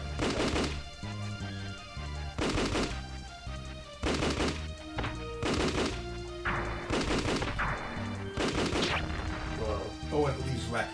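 Video game Wonder Project J2 gunfire aimed at a monster, heard as repeated loud bursts of shots separated by short gaps, with players talking over the action.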